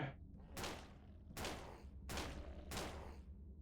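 Four heavy gunshots ring out in the Sangra demo game, evenly spaced about three-quarters of a second apart, each a loud close blast with a decaying tail over a low background hum.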